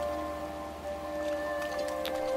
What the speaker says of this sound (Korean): 아, 또 하필이면 비가 오니